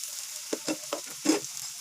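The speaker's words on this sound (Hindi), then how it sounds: "ऑयल हमारा गर्म हो चुका है, मैं समोसे डाल दूँगी।" Samosas deep frying in hot oil over a medium flame give several short, quiet sizzling bursts in quick succession, with stillness between them.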